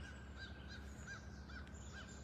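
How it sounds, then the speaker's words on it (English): Laughing gulls call overhead above trees on a barrier island, a series of repeated nasal cries spaced about every half second against a steady low background hum, fairly faint and distant, with no talking. "we hear some laughing gulls that are kind of flying up above the"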